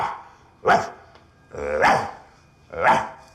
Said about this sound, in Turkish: Bak Pulsar efsanesi havlaya havlaya ekranlara geri dönüyormuş.